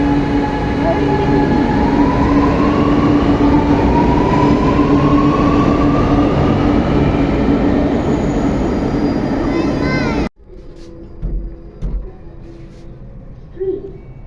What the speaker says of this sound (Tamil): அங்கே பாரு அங்கே பாரு ட்ரெயின் போகுது பாரு ட்ரெயின் போகுது